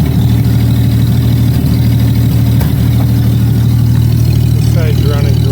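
A 1933 Auburn V12 boat tail Speedster idles roughly on its first start after decades in a museum, one cylinder bank cutting in and out with an exhaust leak, a loud steady close-up rumble with irregular pops and a voice talking over it.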